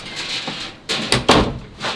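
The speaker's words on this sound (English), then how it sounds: "Door closed for the final time. Oh, that was slam." A front door of a house in Melbourne slammed shut: a cluster of sharp, close, loud bangs and rattles near the middle, with a fainter knock before and after, with no voices.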